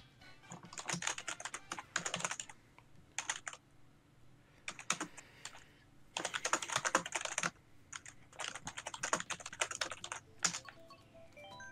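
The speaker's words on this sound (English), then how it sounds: "You showed that keyboard who's boss." Bursts of rapid clattering keystrokes on a computer keyboard, close and fairly quiet, coming in uneven flurries separated by short pauses.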